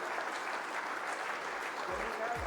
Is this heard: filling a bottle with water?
no